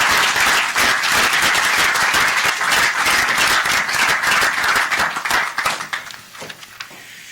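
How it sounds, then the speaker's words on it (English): Audience applause at a school assembly honoring a student from Mrs. Graves' class, loud dense clapping from a crowd that thins and fades toward the end. "Let's have a big round of applause."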